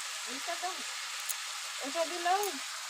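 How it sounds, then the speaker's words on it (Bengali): Potatoes and cauliflower fry in a kadai, giving a steady, soft hiss of sizzling oil with a voice talking over it in short bursts. "ফুলকপি আলু দিয়ে দিয়েছি কড়াইতে"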